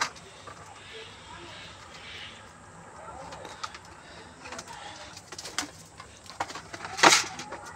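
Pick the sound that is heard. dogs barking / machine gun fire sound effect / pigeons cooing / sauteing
pigeons cooing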